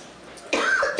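A person ill with suspected bronchitis gives a single harsh cough that breaks in after a moment of quiet, close and fairly loud.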